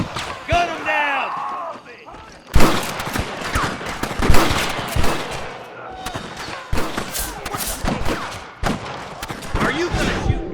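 Rapid bursts of gunfire and sharp shots crackle through a Red Dead Redemption shootout, loud and close, with dense overlapping reports, a brief lull early on, then sustained firing to the end under shouted game dialogue.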